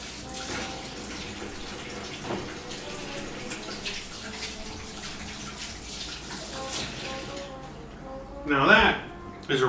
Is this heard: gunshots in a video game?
no